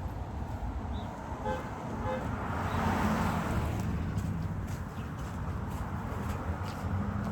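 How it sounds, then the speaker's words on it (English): Steady street traffic along the old Route 1 through downtown Damariscotta, Maine, a continuous roadway rumble with a couple of short car horn toots early on, heard from the sidewalk with faint footsteps. "Lots of traffic."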